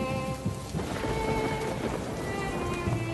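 Rain falls steadily in a dense, even patter, with a soft low rumble beneath.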